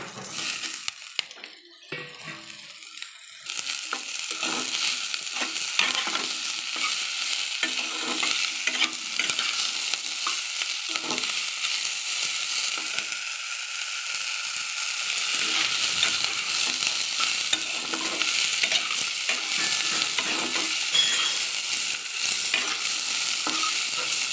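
Ridge gourd and onion fry in a pan, a steady broad sizzle running throughout with a spatula stirring and scraping in uneven bursts, close and fairly loud, with no voices.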